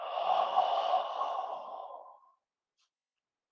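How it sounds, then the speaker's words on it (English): Slow, soft exhalation during a qigong breathing exercise, a single airy breath out lasting about two seconds before fading into silence, close and quiet. "Last breath out."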